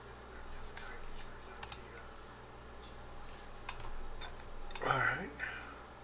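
Soft, scattered clicks from a computer keyboard being typed on sit under faint background sound, followed by a brief burst of voice near the end.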